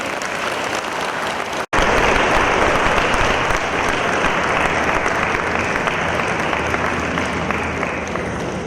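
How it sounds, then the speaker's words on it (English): Loud, sustained applause from a large audience, steady and dense after a brief break near the start. "Give sir another round of applause."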